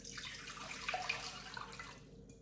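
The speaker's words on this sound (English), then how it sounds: "So I need to put this water into the mixing bowl." Water runs and splashes steadily into a bowl for a couple of seconds, a continuous close pouring hiss with small drips.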